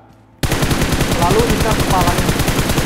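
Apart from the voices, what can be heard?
gunfire while practicing shooting in PUBG Mobile video game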